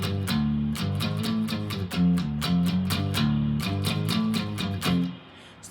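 Electric guitar in drop D tuning playing a chugging, repetitive low main riff, with steady rhythmic strums at moderate volume and no talking.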